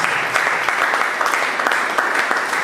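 Dense, continuous audience clapping at a conference, loud and close, with individual hand claps crackling through a sustained roar for the whole stretch.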